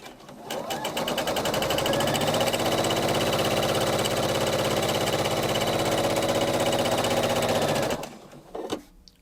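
A sewing machine runs continuously at a steady fast stitch while chain piecing 10-inch quilt squares, loud and close for about seven seconds before stopping, followed by a brief faint clack.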